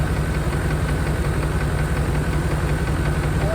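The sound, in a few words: 1992 Chevrolet Caprice wagon V8 engine running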